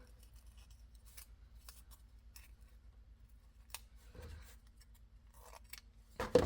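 Scissors snip ribbon for crafting flowers, giving faint, isolated crisp cuts spread through a quiet room with a low steady hum underneath and a louder rustle at the end.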